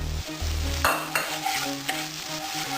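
Food sizzles in a hot pan while a utensil scrapes and stirs a few times, close and fairly loud, with a steady hum beneath; potatoes frying with grated ginger.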